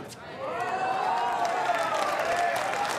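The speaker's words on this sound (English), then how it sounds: "That gets a roar out of the crowd." A crowd roars and applauds after a rally in a mixed gold medal pickleball match, a rising swell of cheering and clapping that holds steady while a commentator talks over it.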